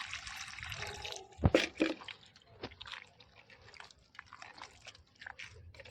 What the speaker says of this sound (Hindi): ये गाय मूत्र डाल रहे हैं हम।